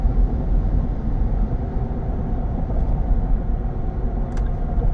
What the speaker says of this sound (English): Tires really aren't loud at all, honestly. You're gonna hear them just a little bit